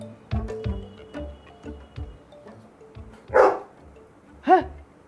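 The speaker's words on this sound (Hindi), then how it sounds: "है ये क्या? कुत्ता?" A dog barks in short, sharp bursts, several quick barks early on followed by a few louder, spaced barks, fairly close and with no talking over them.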